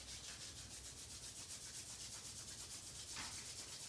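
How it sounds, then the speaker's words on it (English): Palms rubbed briskly together during a hatha yoga session, a steady close dry hissing swish that lasts the whole few seconds with no talk over it. "Rub the palms together."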